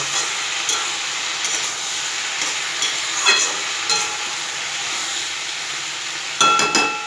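Vegetables with malabar spinach, pumpkin, potato, brinjal and ridge gourd, being sautéed over a low gas flame in a pan, giving a steady soft sizzle with occasional scraping stirs and a few sharper clinks.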